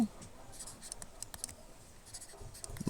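Pen scratching across paper while a Bengali math answer is written out by hand, soft intermittent strokes in short bursts, faint and close, with no talk over it.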